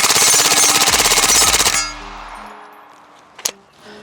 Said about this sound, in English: We got to dump a mag through this extra torqued FDE Kuna.